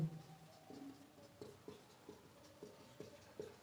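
A pen writing on paper during a maths lesson, quiet scratchy strokes in a light, uneven rhythm of short taps and scrapes, close but faint.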